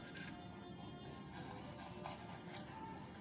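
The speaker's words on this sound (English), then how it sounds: "Just scrape off all the excess, making sure that it's completely smooth and clean." Steady scraping of old gasket residue off the metal oil pan sealing surface on a Mercedes W126, a continuous close rasping rub with no pauses.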